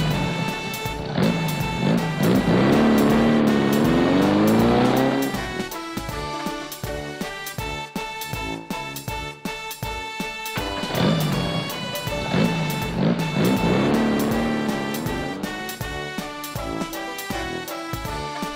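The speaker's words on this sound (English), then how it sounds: "Supercar." Supercar engine revving up in two rising bursts, loud and close, with a bright musical backing running throughout.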